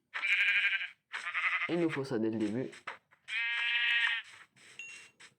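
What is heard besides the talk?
sheep bleating in video game Minecraft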